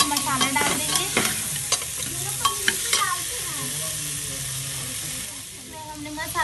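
Vegetables frying in a pan with turmeric, coriander powder and chilli masala for a spiced rice dish, with steady close sizzling and repeated stirring scrapes throughout.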